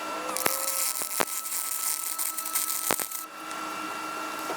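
Aluminum roof pipe is welded on a ProMaster van, giving a steady close high-pitched hiss and buzz with a constant hum, a few sharp crackles, and a drop to a quieter hiss near the end.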